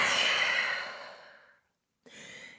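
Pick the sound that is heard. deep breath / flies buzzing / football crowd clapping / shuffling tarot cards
deep breath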